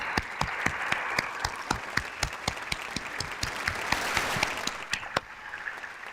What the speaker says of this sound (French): Puis je veux qu'on l'applaudisse tout de suite maintenant.